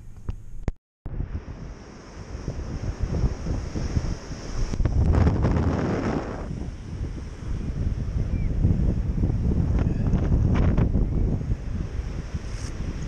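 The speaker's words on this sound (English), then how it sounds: "Windy, windy and cold." Strong, cold wind buffets the microphone outdoors in steady, roaring gusts that swell louder midway, with no voices present.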